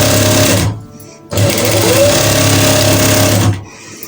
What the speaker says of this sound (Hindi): पहले हम इसकी साइड सिलाई सिएंगे।